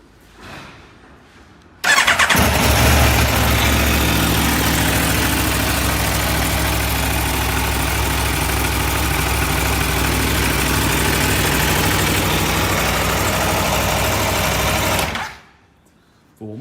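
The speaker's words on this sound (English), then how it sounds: "Let's quickly start it up and give it a listen." An Aprilia Tuono V4 1100 Factory motorcycle starts after a short quiet moment, its engine catching with a burst and settling into a loud, steady, close idle for about thirteen seconds before cutting off.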